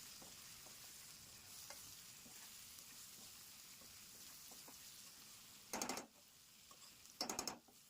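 A spoon stirs onion egg curry in a pan with a soft, steady sizzle of frying close by, broken by two brief louder scraping bursts near the end.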